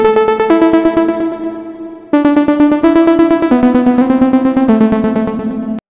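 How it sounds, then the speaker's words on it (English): A synth lead with a stutter effect chops each sustained note into rapid rhythmic pulses, playing a descending melodic phrase loud and alone, the repeated gating clearly audible throughout. "Or we can add some stutter, which sounds like this."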